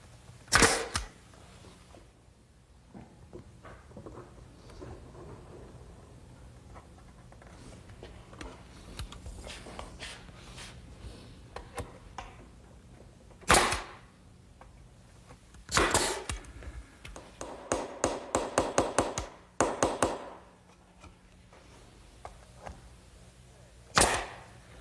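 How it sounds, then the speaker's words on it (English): Finish nails, 1¼ inch, driven by hammer to fix shelves slipped into dadoes in a woodworking shop, heard as scattered sharp knocks and then a rapid burst of close blows. "And we just slip those in the dado and nail it with an 1¼ finish nail"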